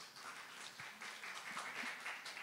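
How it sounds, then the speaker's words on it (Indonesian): A church congregation applauds a member who answered a question, soft, steady clapping heard faintly at a distance with a few murmurs. "100 tepuk tangan buat dia."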